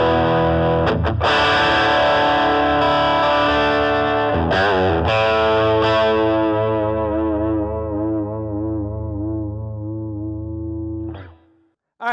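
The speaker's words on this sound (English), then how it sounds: "this is a really fantastic example of this amplifier demonstrating the different sounds in a pickup" Electric guitar on a humbucker pickup through a Bad Cat Mod Shop Cub 15 amp: a few struck, overdriven chords left ringing and slowly decaying with a wavering, chorus-like shimmer, then cut off; no voices.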